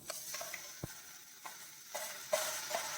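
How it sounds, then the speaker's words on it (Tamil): Chayote (chow chow) being stirred into a sautéed mixture in a pan: a low, faint sizzle with a few soft spoon scrapes and light knocks scattered through, with no talking. "எல்லாத்தையுமே நல்லா கிளறி விட்டுக்கலாம்"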